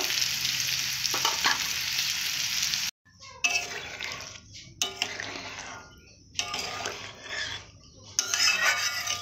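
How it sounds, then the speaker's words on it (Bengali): Potatoes and peas are sautéed in a pan, with a steady close sizzle broken by repeated scraping stirs of a spoon against the pan and one brief abrupt gap. "এভাবে ভালোভাবে কষে নিয়েছি।"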